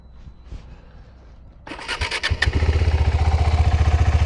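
A KTM 390 Adventure motorcycle engine cranks briefly, then catches and settles into a steady, close, pulsing idle, with no talk over it.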